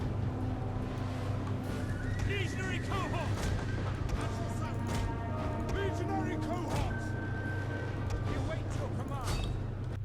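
Skirmishers fire volleys in Total War: Rome 2, a steady battle din of ranged shots and clatter with horses audible amid the noise, running continuously under a voice.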